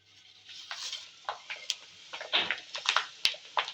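Gundruk, dried fermented greens, frying on low gas in oil already used to fry chilies: irregular crackling and sputtering pops rise in a steady close sizzle, with a few sharp ticks.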